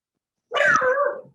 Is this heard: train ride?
no